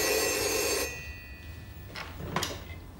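An old telephone bell rings loudly in a room for nearly a second, then stops, followed by faint handling clatter and quiet room noise.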